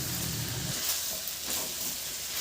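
Onion, garlic and ginger sautéing in hot oil in a pan for chicken adobo give a steady broadband sizzle, with a brief scrape of stirring partway through and no talking.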